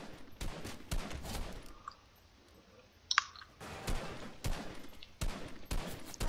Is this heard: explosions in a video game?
yes